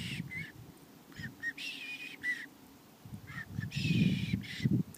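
A red-winged blackbird calls in short, buzzy, harsh bursts, a couple of scratchy notes then a longer trilled phrase, repeated twice over low, muffled background noise.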